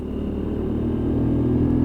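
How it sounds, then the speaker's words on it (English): A WK Scrambler 125cc motorcycle engine idles steadily up close, a low, even throbbing rumble with a slight growl that holds constant throughout. "you can have a listen to the purr of this engine"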